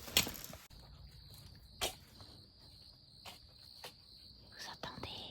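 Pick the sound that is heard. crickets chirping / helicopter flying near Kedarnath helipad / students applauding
crickets chirping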